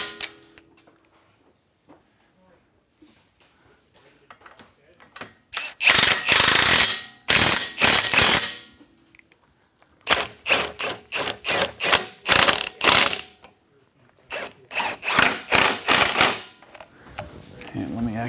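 A ratchet tightens the long bolt and nut on a sway bar end link during a Dinan sway bar and monoball install, loud bursts of rapid clicking with pauses between, close up.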